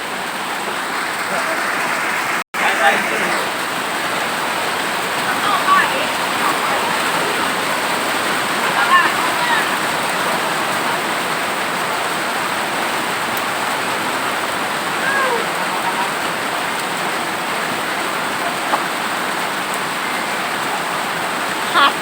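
Heavy rain pours down steadily outside a roadside shop where snake is being stir-fried with holy basil, a constant broadband hiss with occasional splashes and one brief dropout, no voices rising above it.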